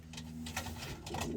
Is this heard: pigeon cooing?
yes